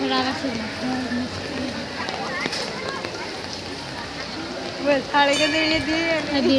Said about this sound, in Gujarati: મસ્ત વરસાદે ચાલુ છે